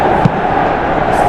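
Football stadium crowd at a Liverpool versus PSG Champions League match, a dense, steady roar of thousands of voices with a brief louder bump, filling the short moment.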